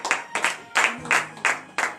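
A congregation claps in rhythm during morning prayer at a church service in Benin: six loud, regular bursts of group clapping with a steady beat and no talking.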